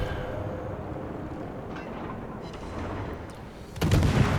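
Warship guns firing during a World of Warships naval battle against the Harlem, a steady rumbling barrage with a heavier, louder burst of booms near the end.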